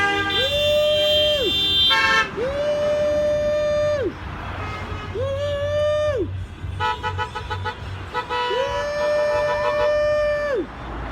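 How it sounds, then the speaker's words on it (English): Car horns blare at a street protest in San Diego, long sustained honks repeating one after another with shorter toots layered over a steady traffic rumble, loud and close with more horns beyond. "It's just miles and miles of cars honking."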